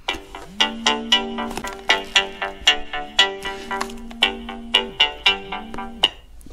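Smartwatch find-phone function making a phone ring: a repeating melodic ringtone of bright plucked notes in a steady pattern, close and clear, with no talk.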